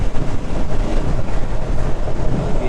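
Strong, steady wind buffeting a microphone while riding a KTM Duke 390 motorcycle with the visor open, a loud continuous rumbling roar that fills the whole clip without any speech.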